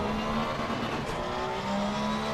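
A race car engine in a sim racing game drones at steady high revs, a continuous buzzing tone that dips and rises slightly over a couple of seconds.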